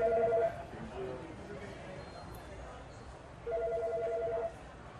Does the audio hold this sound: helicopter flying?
no